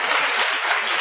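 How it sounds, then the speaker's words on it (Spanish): A studio audience at a live humorous radio show claps in a dense, steady burst of applause filling the whole moment, with no pauses. "Ustedes aplauden y están contentos porque no se cruzaron."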